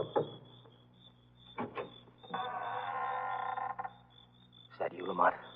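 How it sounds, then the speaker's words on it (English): A cellar door creaks open in an old radio drama, a long drawn-out groan with shorter wooden creaks before and after, heard up close against a faint steady background hum. "This must be the cellar door Terry mentioned."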